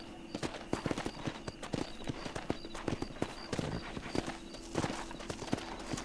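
Rapid, steady clip-clop of a horse's hooves galloping in Red Dead Redemption, a continuous close rhythmic patter of hoofbeats with background game ambience and no speech.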